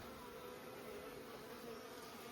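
Bees buzzing around a large hive built into a ceiling, a continuous dense hum of many insects, steady and moderately faint, with no voices.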